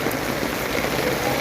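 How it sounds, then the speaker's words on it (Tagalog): Heavy rain pouring down in a dense, constant hiss of drops hitting surfaces, close and loud throughout. "grabe ang lakas ng ulan."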